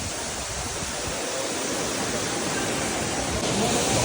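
Namaste Waterfall in Nepal rushes in a steady, loud, broadband roar that fills the whole stretch without a break, heard close by and with no voices over it.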